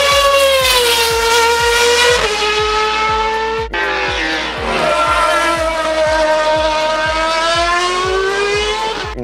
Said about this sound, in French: Liam Lawson, comme le whisky presque, William Lawson, a roulé avec la fameuse RB7